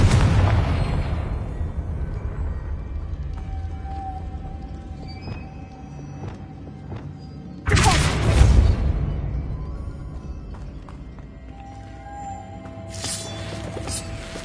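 Fire explosion spell from the Hogwarts Legacy video game, bursting as two sudden loud booms, the first near eight seconds and a second later one, over a dense rumbling game backdrop with no talking.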